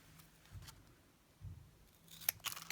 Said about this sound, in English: we'll just trim this end with my scissors